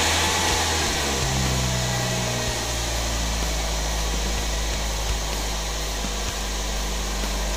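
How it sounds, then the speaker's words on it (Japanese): A car engine being started and left running, a loud steady drone with a low rumble that fills the whole stretch, close by and with no talking. "エンジンかけてみます。"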